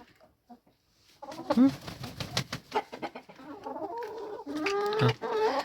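Backyard hens cluck and squawk close by in bursts at feeding and egg-collecting time, with someone talking softly among them.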